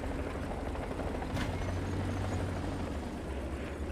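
A helicopter in the combat game War Thunder drones on steadily with a low rotor rumble and engine hum, loud and continuous throughout, with no one talking.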